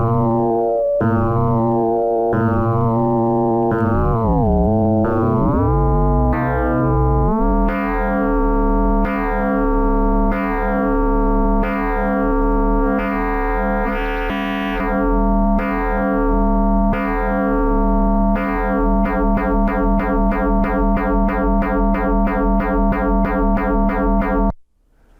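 Kastle synthesizer patch with a square LFO resetting a triangle LFO, giving a loud, continuous buzzy tone with a snappy, rhythmic retriggering pulse that speeds into rapid clicks near the end before cutting off.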